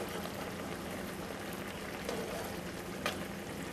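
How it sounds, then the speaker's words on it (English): Lemon caper sauce boils in a pan, giving off a steady soft bubbling and crackling hiss with a couple of slightly louder pops, with no voices. "Our sauce is boiling, which is just what we want."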